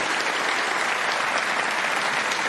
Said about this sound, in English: You'll get a terrific round of applause for this.